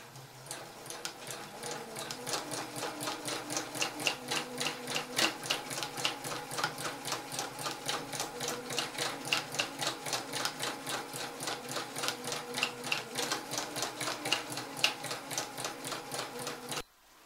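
A sewing machine stitches a clutch bag in one steady, rapid run of even mechanical clatter with a regular ticking rhythm, close and continuous for about seventeen seconds with no talking.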